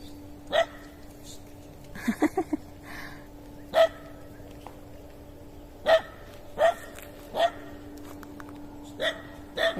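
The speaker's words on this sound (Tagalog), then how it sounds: "Galit na galit naman ang asong to." An agitated dog barks in short, sharp bursts, sometimes alone and once in a quick triple volley, near the microphone on a rural property among water buffalo, with a faint steady hum underneath.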